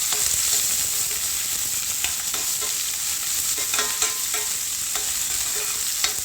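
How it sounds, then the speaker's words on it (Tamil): Onion, green chili and curry leaves frying in oil, giving a steady, close sizzle broken by frequent scraping stir clicks throughout, with no talking. "வெங்காயம், பச்சை மிளகா, கருவேப்பிலை எல்லாம் போட்டு இதை கொஞ்சம் வதங்கி விட்டுறலாம்"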